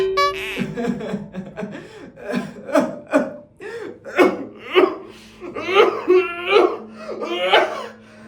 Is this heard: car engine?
no